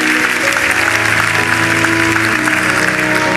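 Congregation in a French-language church service claps and cheers in a loud, continuous wash of applause with voices mixed in, filling the space for a few seconds.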